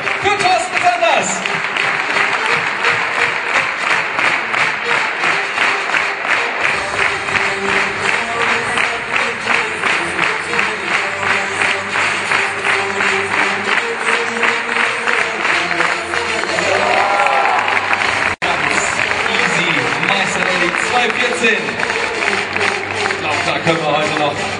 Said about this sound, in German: Dann klatschen die Hände für Thorsten Sanders